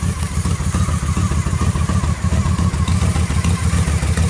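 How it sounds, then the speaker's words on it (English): A cold Honda Shadow Spirit VT750DC motorcycle idles steadily nearby with a deep, throaty rumble and rough, uneven pulsing from stock exhaust pipes with the baffles cut out. "Now those are stock Honda Shadow pipes, but I've got the baffles cut out of them."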